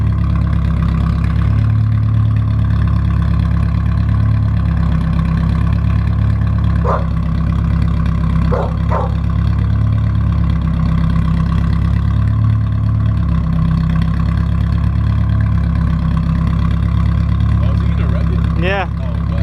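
A Nissan 240SX with a newly installed exhaust idles loudly and steadily up close, a deep continuous rumble with a few brief blips throughout.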